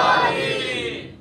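A large gathering at a religious majlis roars back in one loud, unified shout after the Nara-e-Haidari call, a brief swell that fades quickly.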